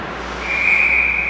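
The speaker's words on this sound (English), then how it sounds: "the whistle is blown" A referee's whistle blows with a single sustained shrill tone at a youth U16 ice hockey game in an arena, loud and steady after a short build, with no talk over it.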